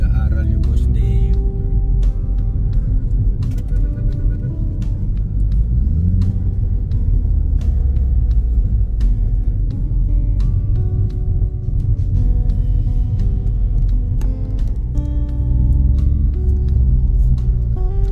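A car rolls along with a deep, steady engine rumble throughout, loud and close as if heard from inside, with someone talking over it and small clicks and knocks scattered across the drive.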